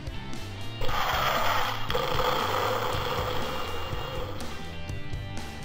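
Explosion effect from a True Heroes Sentinel 1 toy attack submarine, heard as a continuous crackling, hissing electronic rumble that holds steady for several seconds, close and moderately loud, with no speech.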